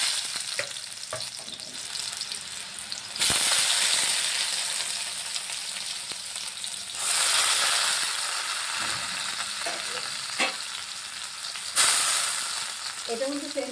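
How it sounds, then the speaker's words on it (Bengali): Squeezed ash gourd pieces fry in a pan with a little salt for a bhorta, a steady loud sizzle that surges in bursts as the pieces are stirred, with light utensil scrapes and no talking. "এটার মধ্যে সেম অল্প একটু লবণ দিয়ে ভেজে নিচ্ছি"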